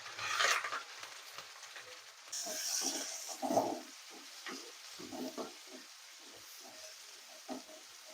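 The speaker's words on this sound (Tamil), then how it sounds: "இது நல்லா வெங்காயம் நல்லா பொன்னரமாக வேகட்டும்." Chopped onions and curry leaves fry in hot oil in a kadai, along with mustard seeds, garlic and ginger, for a brinjal curry. A soft, quiet sizzle runs throughout, broken by several brief scraping bursts as the pan is stirred.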